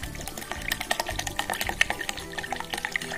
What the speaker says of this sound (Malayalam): എന്നിട്ട് അതിൻ്റെ മുകളിൽ ലേശം കൂടെ വെള്ളം ഒഴിച്ചിട്ട് വീണ്ടും ഒന്നും കൂടെ അടിച്ചെടുക്കുക